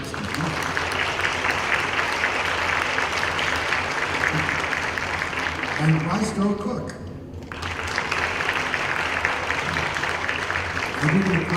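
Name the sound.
audience applause for the Macomb Symphony Orchestra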